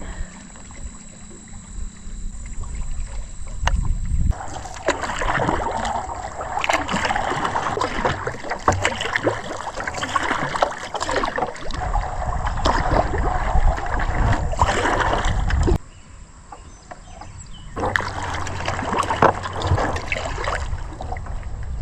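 Paddle strokes and water sloshing around a solo kayak or canoe on Dutch Hollow Lake, with a steady broadband wash of water and movement near the boat, dipping briefly quiet before resuming.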